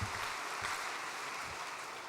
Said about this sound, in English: Why don't we give a big round of applause to those who supported the scholarship?